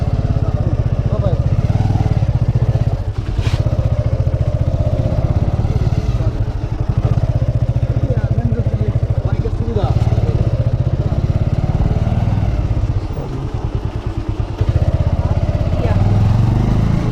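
A motorcycle rides over a badly broken mountain road on the route from Gangtok to Lachung, its engine droning loudly and continuously with rattles and jolts, and a rider's voice is heard over it.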